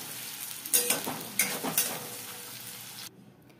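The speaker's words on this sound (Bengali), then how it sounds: "আমি এইটুকুনি পেঁয়াজ একটু বেরেস্তার মতন করে ভেজে নেব লাল করে" Onions frying in a pan until browned and crisp, a steady close sizzle with a few louder bursts of spattering as they are stirred, then the sizzle cuts off abruptly.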